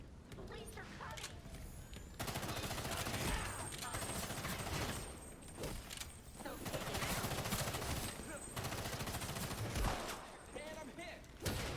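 Ranged dart shots fire in bursts of three in Gotham Knights, a rapid crackle of repeated impacts mixed with game noise and occasional voices.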